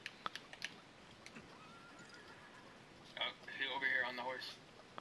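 Horse whinnying in the video game Realm Royale, a short clear neigh rising late in the clip after sparse clicks and quiet game ambience.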